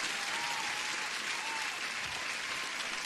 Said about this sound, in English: Let me give you guys a huge applause for joining.